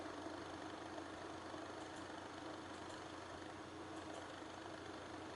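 Gaming PC cooling fans spinning at around a third of full speed, a faint, even whirring hum that holds steady with no talking.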